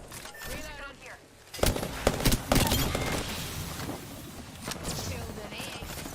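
Bursts of rapid gunfire in a shooter video game, a loud volley erupting after a quieter stretch and continuing in choppy clusters, with game voices and effects mixed in.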